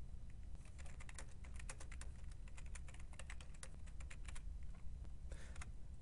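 Quiet, rapid keyboard typing with clustered key clicks and short pauses, steady and close under a constant low background hiss while entering decimal numbers, no voices present.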